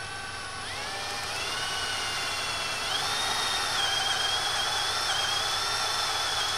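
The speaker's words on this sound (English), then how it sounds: "I already have the right size drill" A power drill whines continuously at high speed, its pitch climbing and holding steady as it bites into metal, close and loud.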